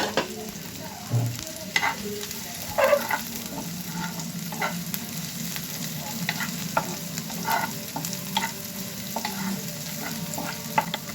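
Chopped onion, garlic and green chilli fry in hot oil, giving a steady close sizzle with frequent scraping stirs and small clinks from a spatula throughout.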